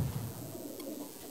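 A lakka pigeon coos softly and close by, a low rounded call rising briefly over a quiet outdoor background.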